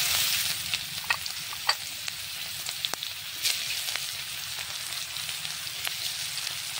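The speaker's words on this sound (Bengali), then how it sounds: "তেলটা গরম হয়ে গেছে, ওই তেলটাই আছে, তাতেই দিয়ে দেবো একটা শুকনো লঙ্কা, তেজপাতা" Dry red chili and bay leaf hit hot oil in a pan and sizzle steadily and densely, with small crackles and pops scattered through, close and continuous with no voices.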